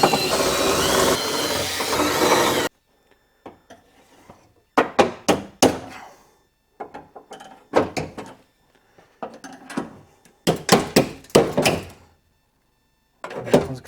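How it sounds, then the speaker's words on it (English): A power drill whirs loudly for a couple of seconds drilling out rivet heads on a window regulator in a Vauxhall/Opel Corsa D door, then stops, followed by a series of metallic clunks and knocks in irregular bursts. "Get a drill on these, take the heads off"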